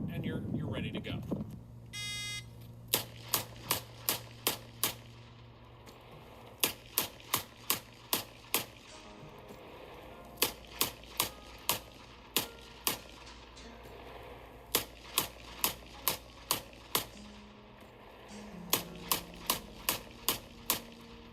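Rapid, sharp revolver shots crack out in tight bursts, with short pauses between groups as one six-shot revolver after another is swapped in a New York reload, about thirty loud shots in all at close range.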